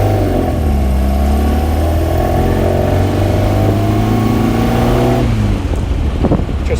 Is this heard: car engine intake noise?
yes